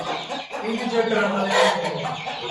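Aseel chickens, a pair perched up high among yellow chicks, cluck in a steady close murmur for a couple of seconds, with voices mixed in.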